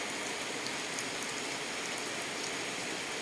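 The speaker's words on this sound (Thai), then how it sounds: "บรรยากาศนะคะสวยๆนะคะในวันที่ฝนตกนะคะ" Steady morning rainfall in Thai countryside weather, a soft continuous hiss of drops on surfaces, even and unbroken throughout with no voices.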